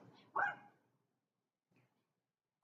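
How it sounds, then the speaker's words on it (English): A dog gives a single close bark, then near silence, with another bark starting just at the end. "this dog that's barking"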